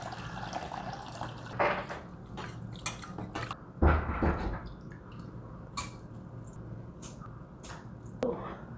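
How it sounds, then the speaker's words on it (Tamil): Toor dal being washed in water while making Manja Pongal, with sloshing, squishy stirring and dripping sounds that come in irregular bursts over a faint background hum. "ஜஸ்ட் இதை வாஷ் பண்ணி எடுத்துடலாம்."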